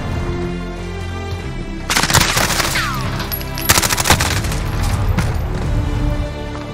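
Gunfire in the Modern Warfare 2 campaign: dense, loud bursts of automatic fire with sharp shots, heaviest around the middle, over a continuous game score backdrop and no talk.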